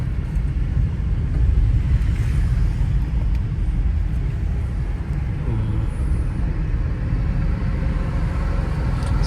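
Car engine pulling steadily in third gear during a driving lesson in Chandigarh, a continuous low rumble with road noise throughout, no gear changes or talk breaking through.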